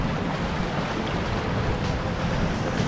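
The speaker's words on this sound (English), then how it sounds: "All the water's just racing away." Tidal water on the Dampier Peninsula coast in Western Australia rushes away over rocks in a steady, close, broadband roar that continues without break.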